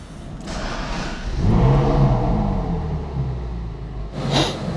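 Ferrari 458 Spider engine driving on an open road, a low rumble that swells as the car accelerates and then holds steady, with a burst of wind or hiss near the end.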